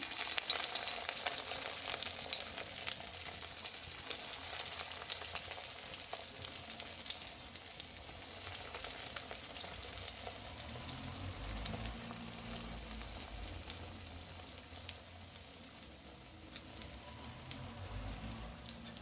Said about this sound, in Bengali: তেল গরম হয়ে গেছে বন্ধুরা, এবার একে একে কাটলেটগুলো দিয়ে দেবো